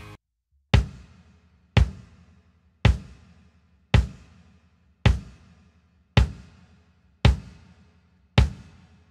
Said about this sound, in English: For the bass drum, we chose a 22x18 inch collector series drum